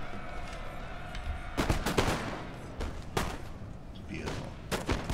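Musket volleys during a Napoleon Total War multiplayer battle, several ragged bursts of distant gunfire cracking in clusters over a steady battlefield din, with someone talking over it.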